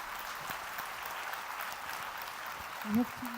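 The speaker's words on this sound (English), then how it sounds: "Can you applaud?" An audience at a welcome address claps for a visiting delegation, a broad, even spread of applause that carries on steadily, with a brief voice surfacing near the end.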